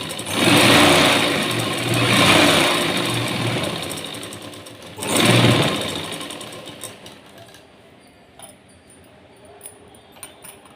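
A sewing machine stitches the folded hem of a blouse sleeve, with bursts of close, loud mechanical whirring, a pause, another burst, then quieter handling sounds.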